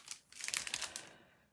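A paper package of embossed card stock rustles and crinkles as it is handled, a quick flurry of dry crackling up close that fades out, quiet and without speech.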